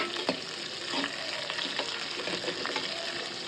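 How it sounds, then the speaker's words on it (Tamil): Chopped onions frying in a pan with steady close sizzling and faint stirring scrapes throughout, no talk. "நான் கட் பண்ணி வச்சுருக்கிற வெங்காயத்தை போட்டுட்டேன். வெங்காயம் நல்லா ரோஸ்ட் ஆகணும்."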